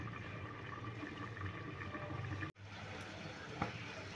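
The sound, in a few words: water simmering down as mourala fish cooks under a lid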